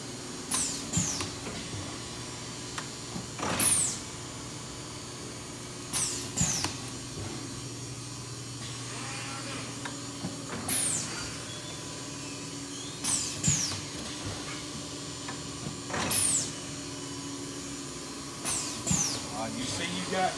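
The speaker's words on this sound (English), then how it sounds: "This is an 8-pallet machine. This machine on this, on non-stop, you got somebody putting on, pulling off." An 8-pallet screen printing machine runs non-stop in a print shop, giving a steady mechanical hum with repeated sharp clunks and hisses every few seconds as the carousel indexes, while voices talk over it.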